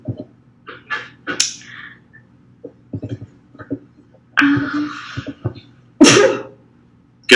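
Two sharp, explosive sneezes burst out loudly and close at hand, each a sudden broadband blast, after a stretch of quieter short vocal sounds and clicks.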